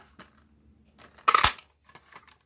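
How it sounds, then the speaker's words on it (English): A paper punch cuts out a card label in one short crisp crunch amid quiet handling noises. "Now I need the punch to cut out"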